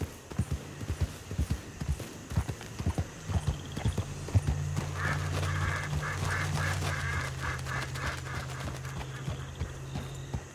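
Horses in Red Dead Redemption 2 clip-clop with brisk, rhythmic hooves close by, joined midway by a steady hum and faint animal calls, the hoofbeats persisting throughout.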